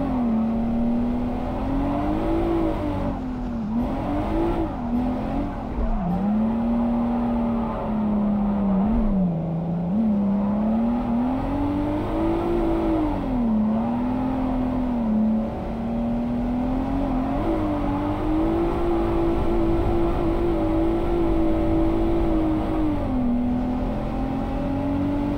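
A car engine in the JDM: Rise of the Scorpion video game drones steadily on a mountain road, its pitch climbing and dipping as it revs through gears, loud and continuous throughout.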